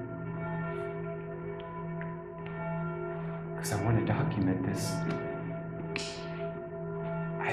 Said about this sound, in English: I have never heard the bells go off that many times.